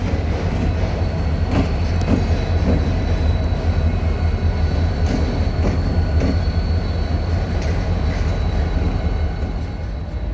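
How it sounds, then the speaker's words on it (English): An intermodal freight train rolls through a busy rail yard with a loud, continuous rumble of wheels and cars, a few squeals and clanks, and no talking. "The 24-hour nonstop action of the train yard."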